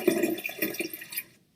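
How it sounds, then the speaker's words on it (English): A toilet flush used as a sound effect: a brief, close rush of swirling water with gurgling pulses, lasting a little over a second before cutting off to silence. "play with the toilet flushing right here"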